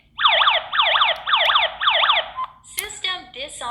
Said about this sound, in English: System alarming.